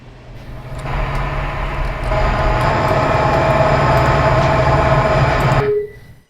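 A freight train in the Run8 railroad simulator game gives a steady, loud rolling rumble with a constant engine drone. It sustains for several seconds, then cuts off abruptly into silence.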